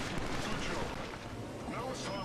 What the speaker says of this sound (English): That's a sick pistol.